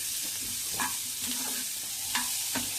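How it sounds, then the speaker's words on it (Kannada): Onion fries in oil in a pan with a steady, close sizzle, while a spoon scrapes and stirs it in a few distinct strokes. "ಅದಕ್ಕೆ ಸ್ವಲ್ಪ ಎಣ್ಣೆ ಹಾಕಿ ಈರುಳ್ಳಿ ಸ್ವಲ್ಪ ಫ್ರೈ ಮಾಡ್ತಾ ಇದ್ದೀನಿ"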